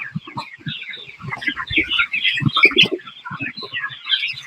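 Broiler chicks crowd around feeders on a farm, a dense, continuous chorus of high peeping and chirping with scattered pecking taps, close and busy throughout.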